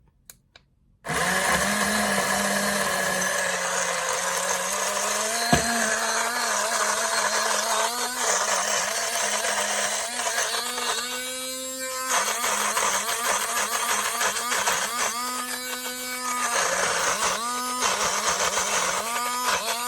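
BlendJet portable blender blending oats, a loud continuous motor whine that starts abruptly and runs steadily, with slight pitch shifts and stuttering as the contents catch, and no talking.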